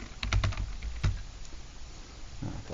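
Quick bursts of keystrokes on a computer keyboard as a file name is typed in a save dialog for a 3D-print slicer, a few clustered clicks early, then quiet room noise.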